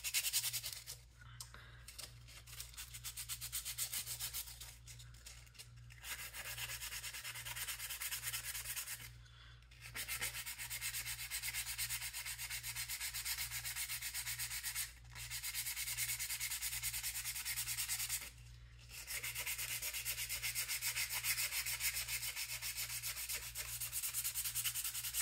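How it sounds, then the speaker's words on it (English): Sandpaper of 100 grit rubbed by hand over a wooden slingshot workpiece, a steady close rasping scrub that runs continuously with a few brief pauses between strokes. "Are you loving this? Sanding footage?"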